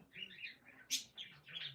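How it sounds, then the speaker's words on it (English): Small songbirds chirp and warble in a quick run of bright, high notes, close by and fairly quiet, with one sharper burst near the middle and no talking. "I love hearing the birds."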